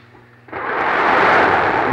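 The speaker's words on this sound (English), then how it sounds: "We have main engine start." Space shuttle Endeavour's main engines ignite at launch on the STS-47 flight: a low background gives way to a sudden, loud roar that builds within a fraction of a second and holds as a dense, sustained rumble.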